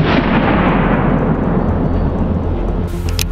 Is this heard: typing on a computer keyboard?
no